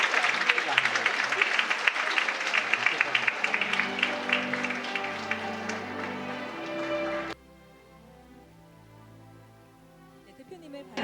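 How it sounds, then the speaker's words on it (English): An audience at an international peace art competition award ceremony claps in sustained, dense applause for about seven seconds, then it cuts off abruptly to near quiet. "Let's welcome her with a round of applause."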